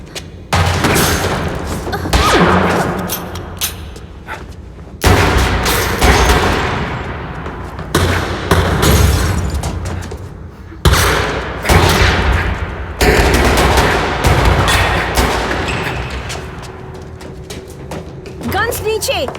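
Movie gunfire in a Hindi-dubbed Hollywood action film, with repeated bursts of machine-gun fire and loud booming shots in several waves, and voices shouting between the volleys.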